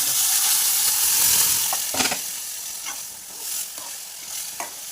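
Pav bhaji mixture of vegetables and spices fried in a pan, a steady close sizzle with scraping stirs and a few sharp knocks of the spoon, no voices.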